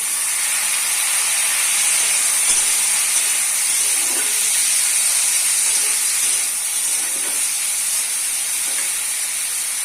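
Chopped tomato tipped into a hot pan of browned onions and cumin, giving a loud, steady, hissing sizzle that holds evenly throughout with faint clinks underneath.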